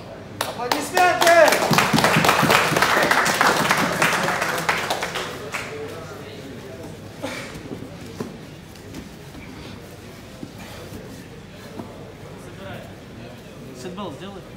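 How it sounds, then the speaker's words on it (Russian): Crowd applause at a martial arts grappling match, a burst of clapping that is loudest at the start and fades over several seconds into a quieter murmur of voices in the hall. "Аплодисменты!"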